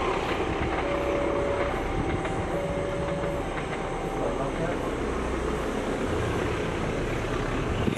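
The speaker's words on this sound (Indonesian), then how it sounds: "Sambil menikmati kopi, ngelihat kereta api ngelewat." A train heading toward Bandung rolls past a rural rice-field spot near Garut in the morning, a sustained heavy rumble with wheel clatter and a brief whistle-like tone, loud and continuous throughout.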